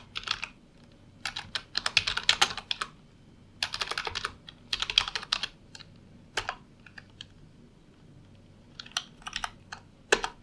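Someone types on a computer keyboard in bursts of quick, crisp key clicks. Irregular pauses fall between the runs of keystrokes, and the sound is close, moderately quiet and heard alone.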